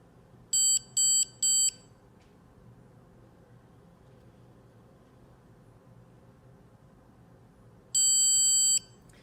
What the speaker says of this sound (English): That longer beep tells you the treatment is completed.